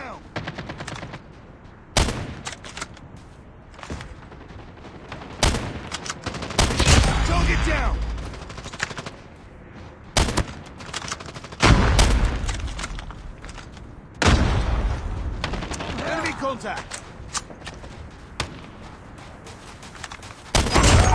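Loud sniper rifle shots in a first-person shooter video game, spaced several seconds apart, with booming reports and bursts of surrounding battle noise, while voices talk intermittently.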